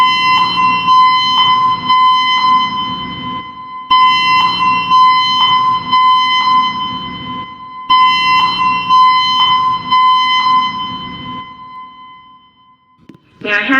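A building fire alarm repeats a steady cycle of loud, evenly spaced electronic tone pulses, restarting about every four seconds, with an automated voice announcement from the evacuation system woven through it.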